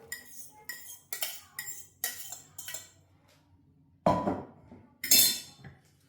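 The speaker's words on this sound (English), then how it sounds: "The next process is to mix your okwa with Scotch bonnet pepper" Spoon clinking and scraping against a bowl while African breadfruit (ukwa) is mixed with Scotch bonnet pepper, a run of quick metallic taps followed by a pause and then two louder, rougher scrapes.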